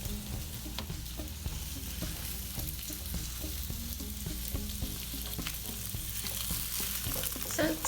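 Onion and apple slices sizzle in an electric skillet, a continuous quiet frying hiss with soft stirring clicks and scrapes running throughout.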